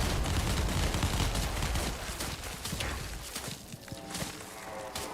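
Rapid gunfire and bursting explosions like fireworks from Borderlands 4 gameplay, a dense, loud barrage that slowly thins into scattered crackling pops.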